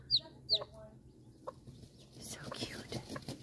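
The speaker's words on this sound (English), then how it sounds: "Now, these are baby silkies. They won't get very big." Baby silkie chicks give two quick high-pitched peeps close by early on, followed by soft rustling and faint whispery voices in the background.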